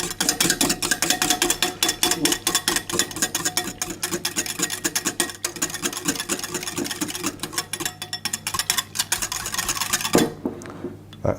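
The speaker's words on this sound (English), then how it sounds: "just mix those ingredients together" Blueberry muffin ingredients being mixed in a bowl, a busy steady scraping and stirring clatter that runs without pause and then stops abruptly near the end.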